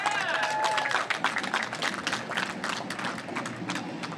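A crowd at an Iowa political rally for congressional candidate Cindy Axne, at the Register's political soapbox, claps and cheers in a dense, steady wash of applause that stays loud for the whole stretch, with a brief raised voice near the start.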